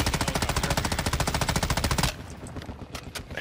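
Sustained rapid automatic gunfire from a weapon in the game DMZ, loud and close, a fast even burst for about two seconds before cutting to quieter scattered game noise.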